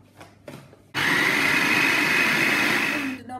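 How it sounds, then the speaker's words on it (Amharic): An electric blender grinds hand-chopped mushrooms, kicking on abruptly after a few quiet kitchen clatters and running as a loud, steady whirring drone for over two seconds before cutting off. "መብዬ በእጅ ቆረጥ ቆረጥ አድርጌ ማሽን ውስጥ ከትቼ ፈጫዋለሁ ማለት ነው"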